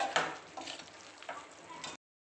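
Quiet scraping and stirring in a pan over a soft sizzle as curry leaves are mixed into chicken fry, a few spoon strokes close up with no talking.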